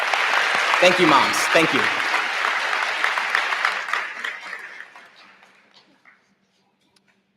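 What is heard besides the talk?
audience applause for all mothers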